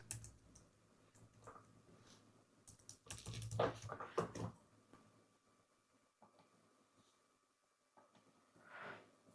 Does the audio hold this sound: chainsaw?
no